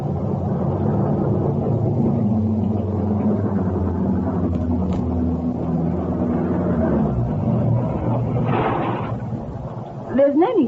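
A car engine idles with a steady low rumble throughout a 1960s radio drama scene, holding under the scene as a continuous bed before a short burst near the end.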